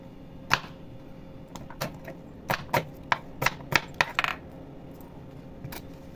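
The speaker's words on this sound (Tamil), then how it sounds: "வெங்காயத்தை 2 2 நறுக்கலாங்க." A knife taps against a cutting board chopping onions in a run of sharp, irregular chops, close and fairly quiet, with no talking.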